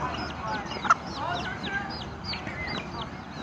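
Chickens and chicks cluck and peep at an outdoor pickleball court at Diamond Head Tennis Center, a run of quick high chirps repeating over constant background noise.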